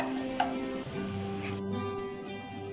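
Finely chopped ginger frying in hot oil in a pan for creamy garlic chicken, giving a close, steady crackling sizzle with a few small pops and stirring sounds, and no talking.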